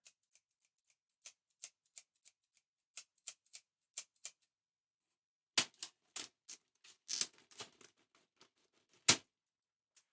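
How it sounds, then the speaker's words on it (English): Scissors snipping open a packet in a luthier's guitar workshop, a series of sharp, close, quiet cuts and clicks spaced out at first, then a louder cluster of rustling snips. "I need to cut that across there. Grab my scissors."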